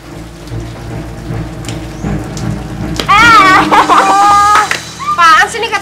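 Steady rain falls outdoors, a dense patter that runs throughout, with low rumbles beneath it. Animated voices talk and exclaim loudly over the rain in the second half.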